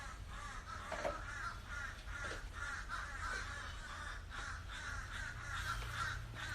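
Crows cawing from a tree behind a house where about a dozen nest, their harsh caws repeating steadily in a rough rhythm throughout, heard from some distance at low volume.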